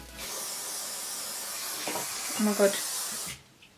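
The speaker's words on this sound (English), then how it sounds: "So what I'm gonna do is spray some of the hairspray onto that brush." Silvercrin Natural Hold hairspray hisses in one long continuous spray onto a hairbrush, close and steady before cutting off abruptly, with a brief voice exclaiming near the end.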